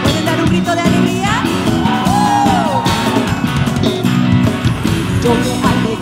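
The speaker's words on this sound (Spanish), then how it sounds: "¿Pueden dar un grito de alegría?" A church congregation shouts and whoops for joy during worship, a loud crowd of massed yells and cheers rising over music that carries on throughout.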